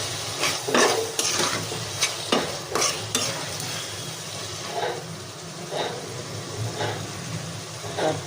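Prawns already sizzling in a pan as chopped tomato goes in, a steady fry hiss with sharp stirring scrapes and clinks of a spoon against the pan, close and moderately loud, no talking.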